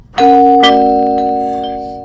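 A two-tone electronic doorbell chime rings once, a bright ding then a lower dong, its tones ringing on and slowly fading.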